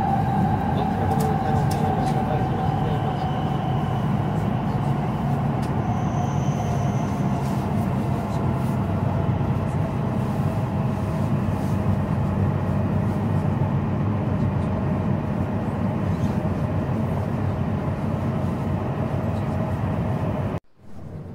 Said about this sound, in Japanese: 甲高いブレーキの音がトンネルの中に響き渡ります。